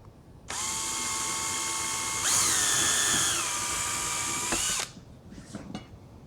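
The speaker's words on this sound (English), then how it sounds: "There's the 4 holes I drilled for the M3 standoffs" Power drill boring holes for M3 standoffs in a solar power equipment board, a close, loud steady whine lasting about four seconds, its pitch rising midway, then stopping with a few faint clicks.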